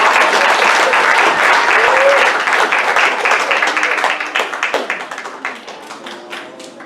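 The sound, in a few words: congregation clapping as a clap offering in church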